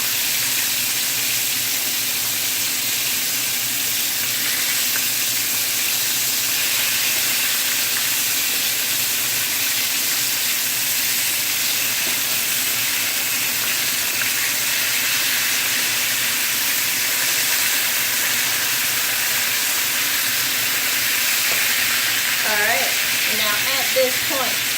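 Buttermilk fried chicken frying in a pan gives a loud, steady sizzling hiss that holds evenly throughout, with a few faint clinks near the end.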